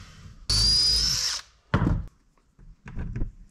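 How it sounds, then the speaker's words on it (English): A power drill boring into a clamped wooden cabinet joint for a boat galley, one loud high-pitched whine lasting about a second, followed by short knocks and handling sounds nearby. "I'm going to use my crank clamps just to hold this connection nice and flat while I drill it out."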